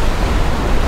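Sea waves wash up onto the shore in a steady, loud, close rushing roar of surf, continuous with no pauses or voices.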